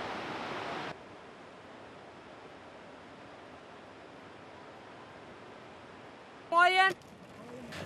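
The Bakhtiari river rushes steadily as a broad, constant roar at a nomad crossing point, with a brief voice cutting in near the end.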